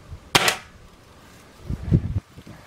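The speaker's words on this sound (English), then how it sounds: "Okay, I'm going to try that. First shot." .22 caliber Hatsan Blitz air rifle firing a single shot at rabbits outdoors, a sharp close crack followed by a short tail, then muffled handling and rustling noise.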